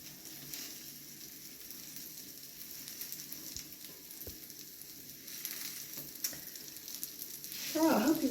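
Tuna fritters sizzle steadily in a hot frying pan, a continuous close crackle with a few sharper pops and a louder burst near the end, no voices present.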